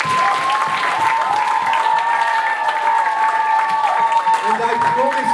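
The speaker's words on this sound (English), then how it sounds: "Can we give them a huge round of applause," Loud, sustained audience applause at a school talent show, dense clapping with cheering voices and whoops mixed in, continuing without pause throughout.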